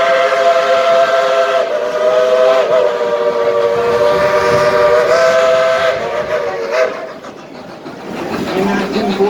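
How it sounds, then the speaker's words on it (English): A coal-fired narrow gauge Mikado 2-8-2 steam locomotive sounds a loud, sustained multi-tone whistle for several seconds, then the blast cuts off, leaving rumbling and hiss close by. "is a genuine coal-fired, steam-driven Type 282 locomotive"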